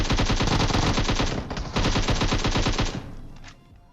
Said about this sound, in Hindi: गोली चलाई जब मैंने वापस घर के अंदर